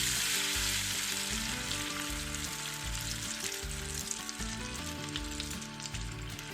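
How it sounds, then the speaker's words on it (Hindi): Chicken fries in hot oil, a dense, continuous sizzle and crackle heard close up beneath steady background music. "ये देखें ज़बरदस्त से हमारा चिकन फ्राई हो रहे हैं।"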